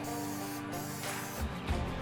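A short hissing burst of cooking spray onto chicken breast, steady for about a second, followed by quiet handling sounds nearby.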